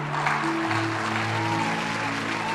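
A church congregation applauds to acclaim the Lord, producing a steady, dense wash of clapping from many hands with some organ or keyboard tones sustained underneath.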